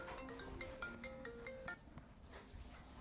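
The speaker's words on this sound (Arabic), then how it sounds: "مين اللي بيرن عليا؟" A phone ringtone plays a repeating melodic tune of stepped electronic tones, fairly loud for about two seconds, then stops and leaves quiet room noise.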